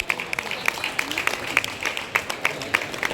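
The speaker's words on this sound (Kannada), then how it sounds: "ಜೋರಾದ ಚಪ್ಪಾಳೆ ಕೊಡಿ ಗೀತಾ ದಿನೇಶ್ ಅವರಿಗೆ" Crowd at a jackfruit festival contest in Mangalore applauding a woman lifting a jackfruit overhead, with steady rhythmic clapping and crowd noise underneath.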